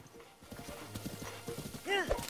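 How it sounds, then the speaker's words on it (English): A horse gallops in The Legend of Zelda: Breath of the Wild: rapid, rhythmic hoofbeats drum steadily up close, then a short whinny breaks through near the end. "Gonna take this horse all the way there."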